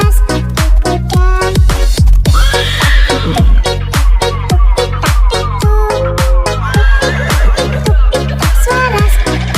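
Steady clip-clop of horse hooves on a delman carriage ride, tapping a quick, even beat through a cheerful children's song with music, with a brief whinny-like cry rising near the start.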